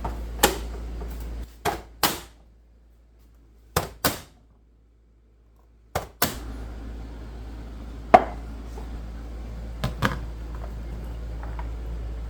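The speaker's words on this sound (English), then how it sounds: "So we're getting our carrots diced up here" Carrots diced on a cutting board, a handful of sharp isolated knife chops at irregular intervals, close and fairly loud with quiet gaps between.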